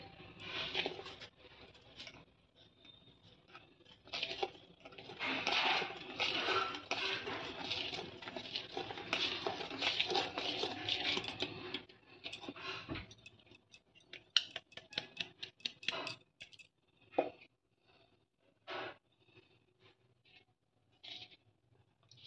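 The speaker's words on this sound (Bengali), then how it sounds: "ভালো করে ময়দাটাকে মিশিয়ে নিচ্ছি।" Sponge cake batter being mixed as flour is worked into whipped egg, oil and sugar in a bowl, a soft patter and scraping that is steady at first, then turns into sparse, irregular taps and clinks.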